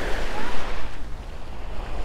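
Sea waves washing onto a beach with clear water, a continuous close rush of surf mixed with gusty wind buffeting the microphone.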